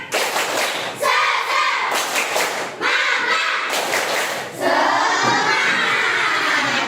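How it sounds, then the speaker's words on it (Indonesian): A classroom of students doing a rhythmic spirit clap, three loud bursts of patterned clapping and thumping separated by brief pauses, fairly close and filling the room. "Sekali lagi, tepuk semangat."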